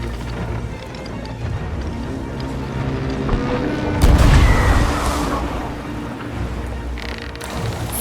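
In the video game Sea of Thieves, a deep cannon boom erupts midway through a rumbling, rain-like wash of noise, followed by scattered crackles and a sharper hit near the end.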